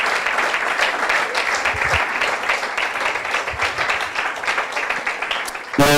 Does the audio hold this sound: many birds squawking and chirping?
no